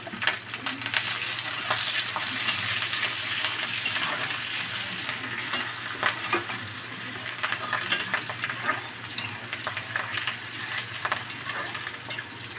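Whole spices and onion sizzle and crackle steadily in hot oil in a pan for a chicken fry, a loud continuous sputtering with frequent small pops and a few stirring scrapes.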